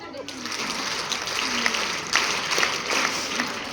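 Audience clapping at a women's workshop, a steady broadband patter of many hands held at moderate level for several seconds, with brief louder bursts and faint voices mixed underneath.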